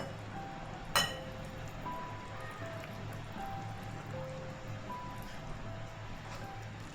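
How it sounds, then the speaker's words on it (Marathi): Pancake batter with added milk being stirred steadily in a bowl, the spoon giving soft wet swishes and light clinks against the side, with one sharper knock near the start. "हे असं आपण सतत असं हलवत राहायचं, त्यामुळे आपलं बॅटर चांगलं स्मूथ होईल।"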